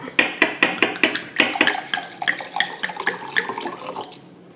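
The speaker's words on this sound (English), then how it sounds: "Yeah, go ahead, pour it." Wine poured into a glass during a home shrimp and angel hair dinner, a rapid bubbling, gurgling splash that runs steadily for several seconds and fades toward the end, close and clear with no talk over it.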